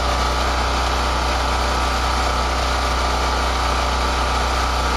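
A snowblower engine runs steadily with the choke set partway, a continuous loud, close mechanical drone with even vibration and no talking.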